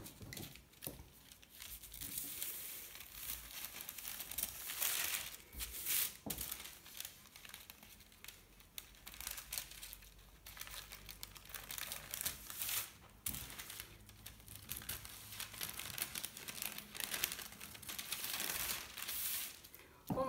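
Scissors cut through a paper sewing pattern for a raglan-sleeve blouse, with irregular crisp snips and rustling paper crinkles throughout, close but quiet.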